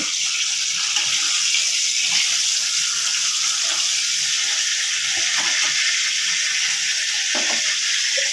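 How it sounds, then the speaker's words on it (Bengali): A bay leaf tempering in freshly heated oil in a pan, a steady, dense crackling sizzle that holds at a constant close level throughout without any talk. "তেজপাতাটা ভাজা হয়ে আসছে"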